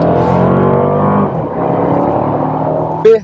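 A Mercedes-Benz CLA engine accelerates in sport mode, a loud steady rising drone heard from inside the car, briefly dipping as it shifts before surging on, with no talk over it.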